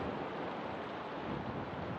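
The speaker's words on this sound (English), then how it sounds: "Oh, it's windy." Strong wind blowing outdoors, a steady loud roar and buffeting rush against the microphone throughout, with no voices.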